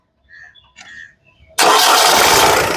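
A 2015 Honda Amaze E engine cranks briefly, then catches and settles into a loud, steady running roar, preceded by some faint movement sounds.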